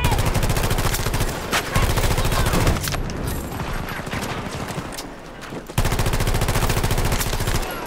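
Rapid automatic gunfire from a battle royale video game, loud, dense bursts with a brief quieter lull in the middle before the shooting resumes at full intensity.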